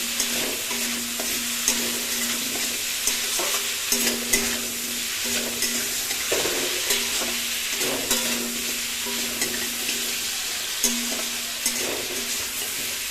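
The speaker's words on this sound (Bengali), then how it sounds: "আমরা এটাকে খুব সুন্দর করে আগে ভেজে নেব" Steady frying and sizzling of new potatoes with whole garlic cloves and chui jhal, with occasional stirring scrapes over a continuous crackle, no talk.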